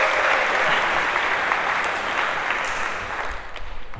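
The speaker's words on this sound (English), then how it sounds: "A round of applause" A room full of people claps for a volunteer called up on stage, a dense, even burst of applause that holds steady and then thins out toward the end.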